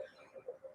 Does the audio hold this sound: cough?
yes